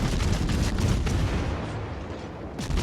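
Heavy naval gunfire in World of Warships, the Minotaur cruiser lobbing shells over an island, a dense continuous roar of booming salvos and rumbling impacts, loud and sustained with a brief lull before another blast.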